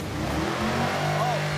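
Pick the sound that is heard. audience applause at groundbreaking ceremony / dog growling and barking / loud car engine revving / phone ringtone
loud car engine revving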